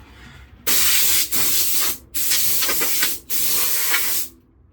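Water spraying from a garden hose in three loud, close bursts of steady hissing, broken by brief gaps, with quiet background before and after.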